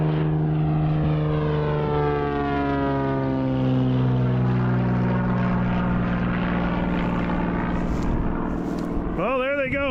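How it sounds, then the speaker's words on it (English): A propeller airplane departing on a Kansas trapline, its engine drone loud and steady with a falling pitch as it pulls away, a voice talking briefly at the very end. "They're on the plane, they're heading out."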